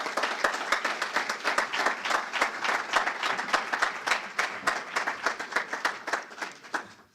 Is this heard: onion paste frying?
no